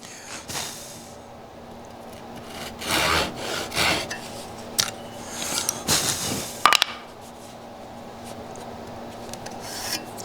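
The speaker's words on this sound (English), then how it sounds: "Hold your saw plumb." A hand saw rasps through wood while cutting a tenon shoulder for a wedged mortise and tenon joint, heard as several bursts of close, scratchy strokes separated by quieter pauses and a few knocks, with no talk.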